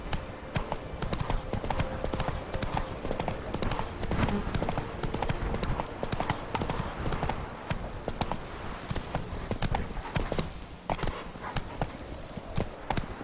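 Roach the horse gallops in The Witcher 3, a fast, continuous run of hoof clip-clops at a steady rhythm, close and prominent, with faint game ambience and brief voice in the background.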